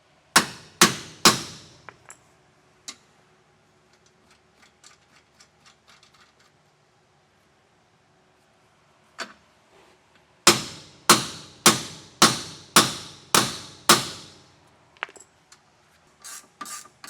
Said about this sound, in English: now we can start hammering in and get our flange nut on there too.